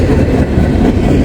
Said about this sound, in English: Here come the auto racks. The auto rack portion of this train.